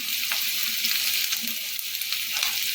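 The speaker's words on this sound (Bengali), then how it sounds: "এবার ওই কড়াইয়ের তেলের মধ্যে আমি রসুন কুচি আর কাঁচা লঙ্কা কুচি দিয়ে দিলাম" Chopped garlic and green chillies sizzle in hot oil in a wok, a loud steady crackling hiss with small pops and a few light stirring scrapes, no voices.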